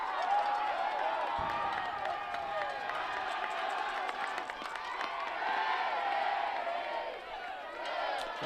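A high school football crowd roars steadily through the closing minute of a Class 3 District 1 final between Park Hills Central and Kennett, a broad, continuous wall of cheering with voices mixed in.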